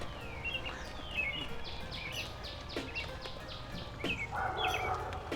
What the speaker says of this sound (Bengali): কিন্তু আপনি যদি শুনতে চান, আপনি পাখির কলরবও শুনতে পাবেন।